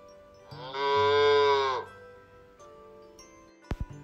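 A single drawn-out cow moo, loud and close, lasting about a second over a quiet background, followed by a few sharp knocks.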